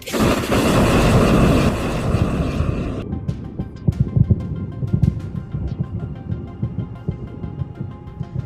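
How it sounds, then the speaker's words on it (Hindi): Rockets fired toward Israel by Hezbollah fighters from a multiple rocket launcher loaded with many rockets, a loud sustained roaring rush for about three seconds followed by a series of sharp booming launches and thuds. "इसके बाद हिजबुल्लाह के लड़ाके इन रॉकेट्स को इजरायल की तरफ फायर कर देते हैं।"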